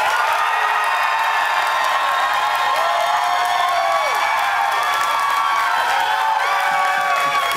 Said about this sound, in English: applaud and make noise now.